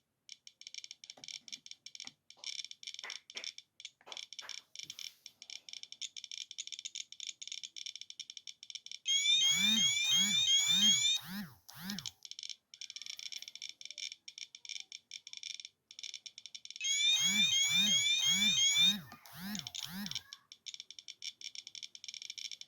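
A radiation detector alarm, set off by apatite mineral specimens, chirps in a rapid rattling pattern, with two louder bursts of repeated beeping standing out; no voices.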